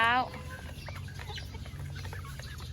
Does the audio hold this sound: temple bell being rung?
no